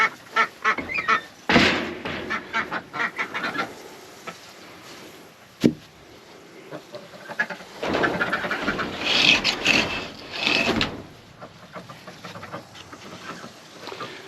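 Ducks quack in scattered bursts, some loud and close, with flurries of overlapping calls and a sharp knock partway through.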